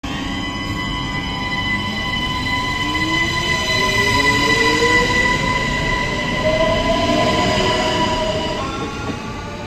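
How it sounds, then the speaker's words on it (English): Continuous rumble of a moving train in Luxembourg, heading to the village of Michelau, with rhythmic wheel noise and high squealing tones rising and falling as the carriage rolls along. "I get on the train and head along to a little village"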